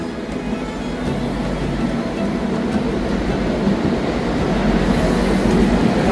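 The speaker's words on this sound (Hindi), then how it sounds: "ट्रेन आ गई अपनी" A Spanish high-speed train pulls into a station, a loud continuous rumble of wheels and carriages that swells slightly toward the end, with no voices over it.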